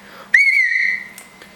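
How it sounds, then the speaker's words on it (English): A small 3D-printed plastic whistle with a pea inside, blown once in a short sharp shrill blast lasting under a second, close and loud against a quiet background hum. "I printed out a little whistle with the P inside"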